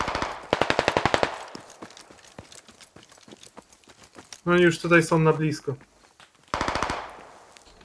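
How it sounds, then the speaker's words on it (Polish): Rapid machine gun bursts ring out in the video game Squad: one sharp burst near the start and another near the end, with scattered single shots between and someone talking in the middle. "Nie wiem skąd strzały, ale wszystkich po kolei ściągają."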